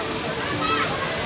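Rani Jharna waterfall in Bhaktapur, Nepal, gives a steady rushing, splashing roar of falling water under close, excited talk.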